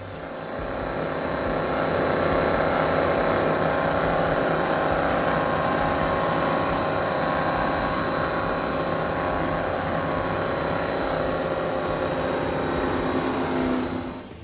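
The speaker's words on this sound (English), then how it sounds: "Let's listen into these Mercury Racing 525s." A 38-foot Cigarette Top Gun powerboat with Mercury Racing 525 engines runs flat out on a coastal poker run, its engines a sustained heavy roar that swells in, holds steady and tapers at the end.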